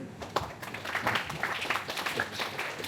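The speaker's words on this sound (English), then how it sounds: "Huge round of applause" A workshop audience gives a round of applause, a fairly thin, uneven patter of hands from a modest room-sized group, with a few sharper claps standing out and a voice faintly present.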